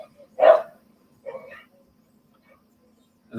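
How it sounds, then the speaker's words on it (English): An unhappy dog gives two short, sharp barks or yips, close and moderately loud, separated by a brief pause and followed by silence. "That doesn't sound like a happy dog."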